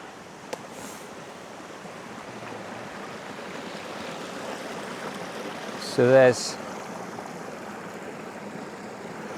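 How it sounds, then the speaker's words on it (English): A small stream rushes steadily nearby in an even, hissing flow, with a brief voice speaking a couple of words partway through. "what I thought was even a waterfall. It's not, it's just a beck."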